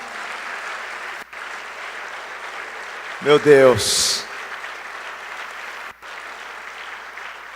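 A church congregation keeps up steady applause throughout a worship service. A voice briefly speaks over the clapping partway through.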